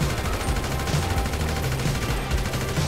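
Rapid bursts of gunfire in GTA 5 crackle continuously with a dense, compressed, game-like quality, with a low thumping underneath.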